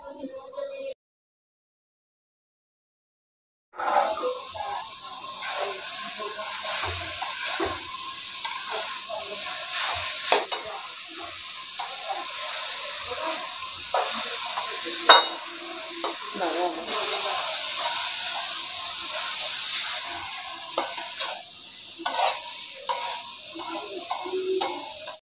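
Grated papaya dropped into a pan of frying ground spices, a steady sizzle with scattered clicks and stirring scrapes after a brief silence at the start.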